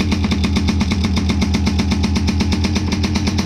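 A Peugeot 103 MVL moped engine idles close and loud, a steady fast put-put pulse that holds even throughout with no voices.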